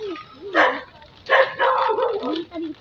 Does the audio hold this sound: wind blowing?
no